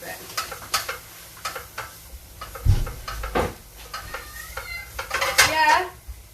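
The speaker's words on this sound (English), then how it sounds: "add a little bit of butter to that. Just because it's nice leeks and butter. Like that. And I'll leave that to fry for a bit" Leeks sizzling in butter in a pan, with scattered stirring scrapes and clinks of utensil against pan, plus a thud and faint background voices.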